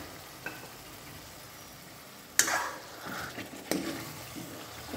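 Soft sizzling and bubbling from a pan of besan gatte gravy with added water, with a couple of sharper clatters of a ladle stirring partway through.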